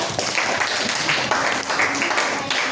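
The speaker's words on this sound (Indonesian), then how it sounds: "Ya, tepuk tangan." Hand clapping in a classroom during a music lesson, a dense continuous burst of applause from a group of people, close and fairly loud, with some voices mixed in.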